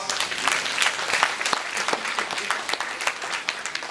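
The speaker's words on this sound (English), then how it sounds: "Please give her a round of applause." Audience at a scholarship brunch applauds steadily, dense clapping filling the room at moderate volume without pause.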